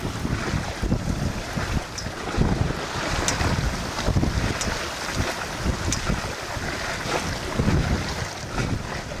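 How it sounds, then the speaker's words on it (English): Wind gusts buffet the microphone over the soft lapping of water ripples against a sailboat hull on open water. The noise is steady and unbroken, with no voices or motor. "you can hear every little ripple in the water, every little puff of air"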